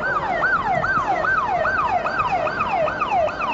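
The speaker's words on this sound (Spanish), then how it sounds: "Todas las ambulancias se están desplazando principalmente por esta avenida." Ambulance sirens wail along a city avenue during crowd incidents after River Plate's relegation, a loud, regular rising-and-falling cycle repeating about every half second over traffic rumble.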